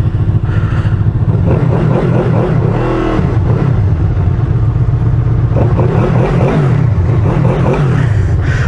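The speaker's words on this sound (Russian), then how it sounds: "Заводит мотоцикл, работает очень красиво, с глубоким звуком." A Honda VFR800F motorcycle engine idles with a deep, steady rumble and is revved a few times, the pitch rising and falling, loud and close with no voices.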